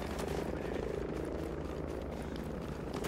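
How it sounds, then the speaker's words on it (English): A helicopter approaching in a video game gives a dense, steady rotor rumble and whir that holds at constant loudness throughout, with no voices over it. "We got a helicopter coming in."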